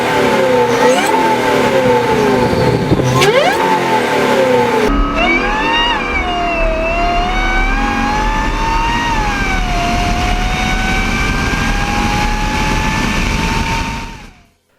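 A Saleen SMS Challenger 570 engine revs loudly and repeatedly, then holds a long rising and falling roar before cutting off abruptly at the end.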